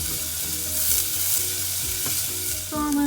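Onions sautéing in a pan for a homemade vegetable soup, a close, steady sizzle and frying crackle with a spoon stirring and scraping at intervals.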